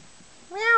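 A cat gives one short, close meow that rises and holds at the end of a brief quiet moment.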